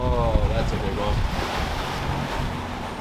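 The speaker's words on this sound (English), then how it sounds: "a wave coming and slapping up against the hull" Waves slap against the hull of a sailing boat on a rough, windy day, a continuous loud wash of surf and water with heavy wind buffeting the microphone.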